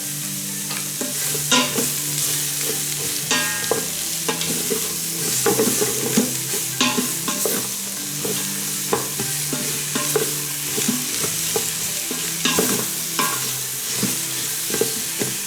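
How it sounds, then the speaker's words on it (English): Onions sautéing in an Instant Pot on saute mode for pot roast: a close, continuous sizzle broken by frequent scraping and clattering as a utensil stirs, with no voices. "It's still on the saute mode. I'm going to let that cook in there for a bit."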